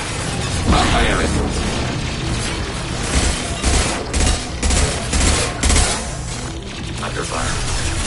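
Gunfire in Mass Effect 2 combat: bursts of shots and booming impacts in rapid clusters, loud and close, with game voices talking over the fight.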